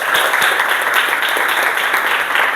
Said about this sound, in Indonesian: Kasih tepuk tangan dulu untuk semuanya.